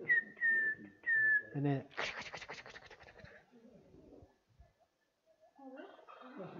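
Spotless crake advertising call played as a recording: a series of clear repeated whistled notes followed by a rapid descending trill, with people talking quietly afterward.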